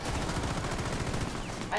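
Rapid gunfire in the video game Rainbow Six Siege on the presidential plane map, a dense burst of automatic shots heard steadily throughout at moderate level.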